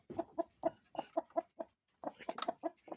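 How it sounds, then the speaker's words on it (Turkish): An angry indoor chicken clucks repeatedly in quick, agitated bursts up close, pausing briefly before another rapid run of sharp, scolding clucks. "tavuğumuz bakın kızmış"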